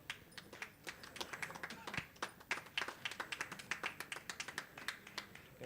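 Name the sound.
audience applause at award ceremony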